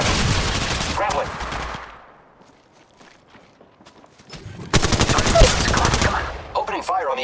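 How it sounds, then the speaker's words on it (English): Rapid automatic gunfire from the mobile game Apex Legends Mobile comes in two loud dense bursts separated by a quieter lull with faint footsteps, no talking. "Opening fire on the enemy."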